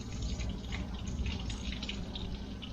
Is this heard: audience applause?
no